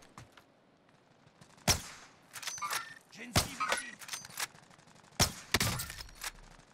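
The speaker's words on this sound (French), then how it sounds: "Il y a des gars qui tirent en bas." Scattered bursts of gunfire in the video game Warzone, sharp single and clustered shots of varying loudness over a quiet game background.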